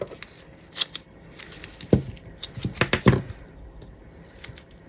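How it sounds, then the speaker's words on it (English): Scissors snip repeatedly through material while strips are cut for a UV resin and nail polish pendant craft, giving crisp, close, irregularly spaced cuts. "So let's cut some strips."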